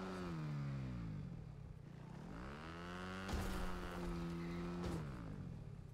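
A motorcycle engine in the Fortnite video game revs loudly and close, its pitch sliding down, climbing again, then holding a steady high whine before dropping away, with no talking.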